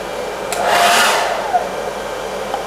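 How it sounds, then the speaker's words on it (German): A hair dryer switches on while running from an EcoFlow Delta portable power station in a camper van, alongside a coffee machine; a steady broadband whoosh swells loudly for about a second, then continues more quietly, with no talk. "Wenn ich jetzt gleichzeitig den Föhn einschalte,"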